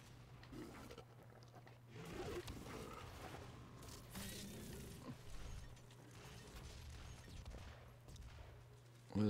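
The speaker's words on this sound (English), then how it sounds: "Shooting." Gunfire in the DOOM video game during an online multiplayer match, a busy stretch of shots and clatter with mechanical effects, moderately loud and fairly continuous throughout.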